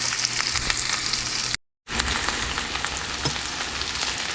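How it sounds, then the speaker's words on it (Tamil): Onions sautéing in a pan before mushrooms go in, a steady close sizzle and crackle with occasional stirring scrapes, broken by a brief moment of silence partway through. "வெங்காயம் கொஞ்சம் வதங்கிட்டு இப்போ காளான போடும்"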